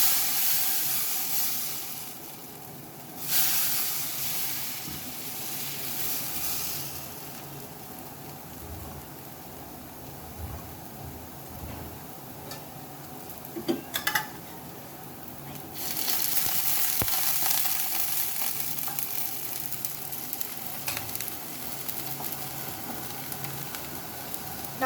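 Jaalar parotta batter poured in thin strands onto a hot stone griddle sizzles in a steady close hiss that swells louder for a few moments, then settles back into a continuous fry.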